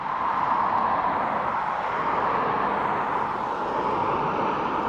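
A Ryanair airliner at Dublin Airport gives off a steady broadband jet roar, a constant whooshing rush at a moderate distance that holds level throughout without breaks.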